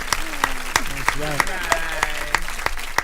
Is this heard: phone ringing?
no